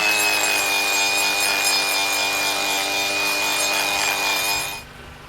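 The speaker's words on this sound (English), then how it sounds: "They trimmed part of the horn to insert and secure the tracking device." Continuous rasping, sawing scrape as a lion's horn is trimmed with a blade for fitting a tracking device, steady and fairly loud, stopping abruptly near the end.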